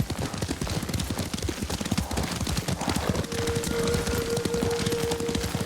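Horse hooves clip-clop steadily in the video game Ghost of Tsushima, a continuous rhythmic gait over a dense wash of ambient game sound, with a brief sustained tone appearing partway through; moderately loud throughout.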